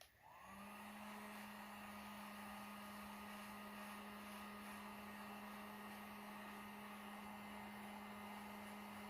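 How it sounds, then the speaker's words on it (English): A large Harbor Freight heat gun switches on and runs on its low setting, a steady fan whir with a constant hum, close and unbroken from start to finish. "Now this is an awful big heat gun"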